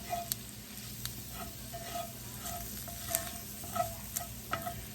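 Sausage and flour cook in a drying pan with a faint steady sizzle and light, irregular spatula taps and scrapes.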